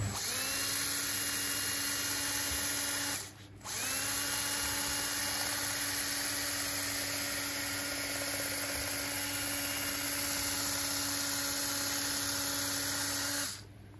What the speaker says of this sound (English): So I got out this sheet metal shear that goes on the drill.